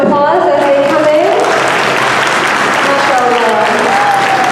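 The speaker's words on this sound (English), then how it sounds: "let's give them a round of applause as they come in" Audience applause at a school graduation ceremony as graduates walk in, a dense, steady wash of clapping throughout with a voice speaking over it near the start.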